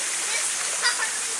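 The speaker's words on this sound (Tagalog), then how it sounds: "Tanawa ug sa gaagi ang tubig" A stream runs over a rock formation, a steady close rush of water with a small splash near the middle, filling the short moment without talk.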